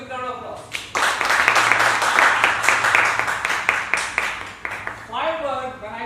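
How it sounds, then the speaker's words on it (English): An audience at a club meeting gives a big round of applause, dense clapping that swells in and keeps going for several seconds, with a speaker talking before it and again as it fades. "You can give yourself a big round of applause."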